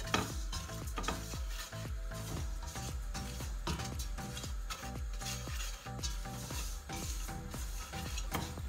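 Semolina roasting and being stirred in a pan over low heat for sweet suji kheer, a steady soft sizzle with repeated scraping and stirring strokes close up, continuous and alone without voices.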